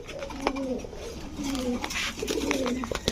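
Several rolling coos from a male Budapest pigeon repeat close by, with a faint human voice and light rustling in the background.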